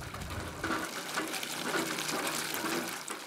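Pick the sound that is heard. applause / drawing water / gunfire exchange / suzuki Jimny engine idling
drawing water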